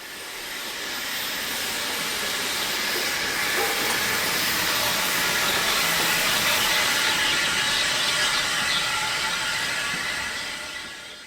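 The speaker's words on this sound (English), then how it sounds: "30541 arrives with a train for East Grinstead." Maunsell Q-Class 0-6-0 steam locomotive 30541, built 1939 for the Southern Railway, arrives with a train for East Grinstead on a preserved line, giving a steady hiss of steam and rolling rail noise that swells in and fades at the end.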